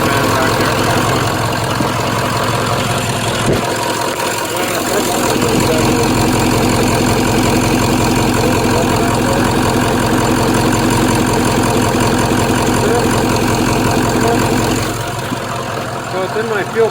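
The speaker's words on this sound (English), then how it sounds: "Look at that, you see the turbo spinning back there." Ford Powerstroke diesel van engine idles steadily and loudly nearby, a continuous low rumble with a faint whine of the spinning turbo underneath, holding constant for the whole stretch apart from a brief dip near the start.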